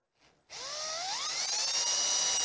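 A power drill with a 3/32 drill bit spins up after a brief click, its high whine rising in pitch and holding steady as it bores a hole, close and alone.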